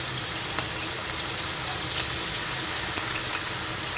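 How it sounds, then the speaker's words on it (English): Marinated meat frying in a hot pan, a steady, dense sizzle that holds at an even level throughout, close and continuous with faint crackles. "So we start off by putting the meat into the pan and frying it off."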